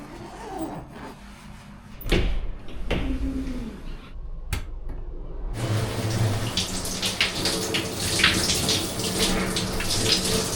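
A shower runs in a cheap capsule hotel in Manila, starting with scattered knocks, bumps and brief thuds and then breaking into a steady, close hiss of spraying water.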